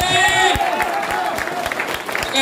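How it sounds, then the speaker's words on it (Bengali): An audience at a Moringo Organics workshop in Mirik claps loudly and steadily for a couple of seconds while a voice talks over the applause. "জোরে জোরে জোরে হাততালি।"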